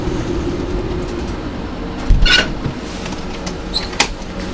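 Strong 60 mph wind roars around a moored boat, heard from inside the cabin as a constant low rush, broken by a few sharp knocks and rattles of the hull and fittings.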